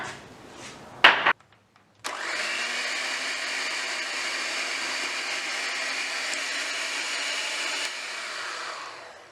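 An egg being whisked into Funfetti cake batter: a brief clatter, a short pause, then a steady whirring drone that runs evenly for about six seconds before cutting off.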